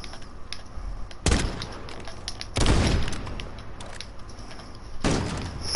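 Gunfire in a multiplayer video game: three separate loud bursts of shots spaced a couple of seconds apart, each a sharp broadband crack with a short tail over low background game noise.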